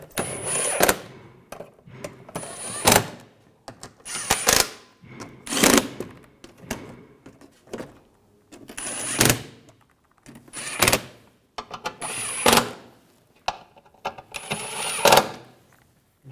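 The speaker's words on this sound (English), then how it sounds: "Tighten down the Phillips head screws up front." Phillips head screws being tightened at the front of a 2009-2010 BMW 535i xDrive 3.0L L6 during a front left CV axle replacement: short whirring, clicking bursts repeat every second or two, each followed by brief quiet.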